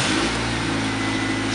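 A Honda Civic EF wagon with a swapped B20 engine runs steadily, its even mid-pitched drone holding at a constant level from start to finish, close and fairly loud.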